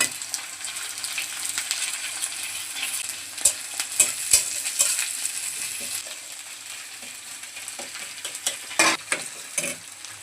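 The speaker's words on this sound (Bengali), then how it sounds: "পেঁয়াজ, রসুন, কাঁচা লঙ্কা ভাজা হয়ে গেছে, এখন চাপাটা দিয়ে দিচ্ছি" Onion, garlic and green chili sizzle in hot oil in a pan, a continuous close frying hiss punctuated by sharp metallic clinks and scrapes of a spatula, with no voices.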